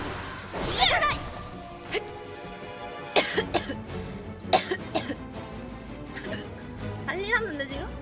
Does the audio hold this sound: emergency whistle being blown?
no